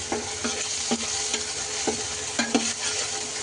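Masala paste with tomato frying in a pan, a steady loud sizzle broken by repeated rhythmic scrapes of a spoon stirring, with no voices.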